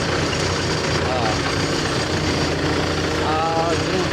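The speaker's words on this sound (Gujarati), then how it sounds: "આ જૂનું ટ્રેક્ટર છે 2522" An old 2522 tractor idles with a steady, dense engine rumble that runs unbroken throughout, close by, while people talk over it.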